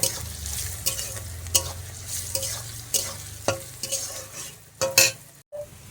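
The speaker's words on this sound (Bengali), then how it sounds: "তো চলো ভেজে নেই তাড়াতাড়ি করে এখন এটা মিক্স করে নিচ্ছে" Repeated scrapes and clinks of a spoon stirring in a pan of hot oil, with a low sizzle running underneath the irregular strokes, fairly close.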